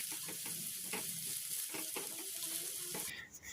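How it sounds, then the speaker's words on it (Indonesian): Diced meatballs with chili and shallots are stir-fried in a pan: a soft, continuous sizzle with repeated scraping and stirring clatters, fairly quiet and with no talk. "Nah ini kita aduk lagi ya sampai tercampur rata dan kita masak sampai baksonya ini matang."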